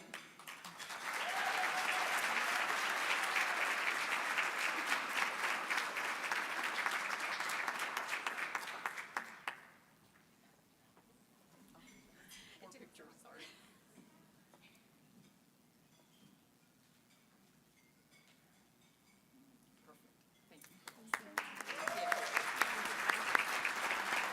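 Audience applause at a military spouse of the year awards ceremony lunch, a dense, sustained wash of clapping for about ten seconds, then quiet room murmur, then another swell of applause rising near the end.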